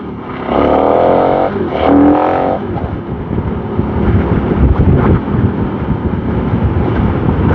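A KTM Super Adventure 1290 motorcycle ridden on a scenic road, its engine droning loud and steady with rising revs, heavily buffeted by wind noise throughout.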